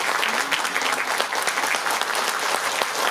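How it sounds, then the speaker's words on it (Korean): Audience at a candidate's book concert breaking into dense, continuous applause, a loud even wash of many clapping hands filling the room for several seconds, with no talk over it. "제 생각에 동의하시면 박수 한번 쳐주세요"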